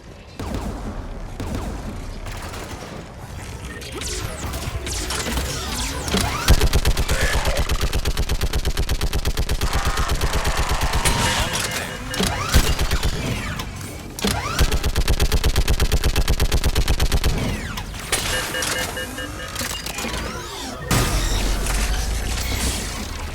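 Heavy anti-aircraft gun in Mass Effect Legendary Edition pounding out long, rapid bursts of automatic fire, loud and close, with booming impacts and mechanical clatter between salvos.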